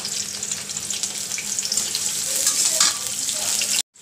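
Onions and green chillies frying in oil for a Bengali fish oil curry, a steady close sizzle with faint stirring clicks, alone without talk, cut off abruptly near the end.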